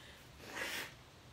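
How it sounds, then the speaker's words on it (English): A single nasal blow, a rushing breathy burst lasting under a second, close to the mic, with quiet room tone before and after. "I gotta blow my nose."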